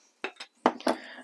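A new glass jar of whole grain mustard is opened in a home kitchen, giving four short, close clinks and taps: two light ones, then two heavier knocks with a brief rattle.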